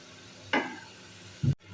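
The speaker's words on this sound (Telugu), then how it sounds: "వీటిని వేసుకొని కొద్దిగా కాలిన తర్వాత నూనెలో వేసి కాల్చుకోండి" Chegodilu, crisp ring-shaped snacks, cooking in hot oil, with a short sizzling burst of the frying and a brief low clunk of a slotted ladle near the end, heard close up with no one speaking.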